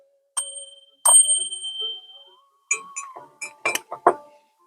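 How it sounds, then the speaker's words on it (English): A small hand bell rings several times, first single bright dings that ring out and fade, then a quicker cluster of jangling strikes, close and clear in an otherwise quiet room. "I have to ring my bell."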